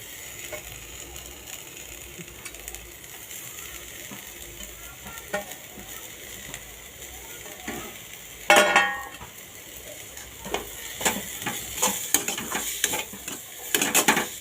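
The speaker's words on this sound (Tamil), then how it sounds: "போட்டுட்டு நல்லா கிளறிக்கோங்க" A fried evening snack tossed with coriander leaves is stirred in a pan, with a soft steady sizzle under scraping spatula strokes and occasional sharper metallic clinks of the utensil against the pan.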